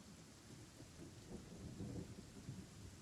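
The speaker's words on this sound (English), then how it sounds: "That thunder, like, sounds real in my headset." Thunder in the video game Genshin Impact rolls as a low, steady rumble under a faint wash of rain, quiet and continuous throughout with no voices.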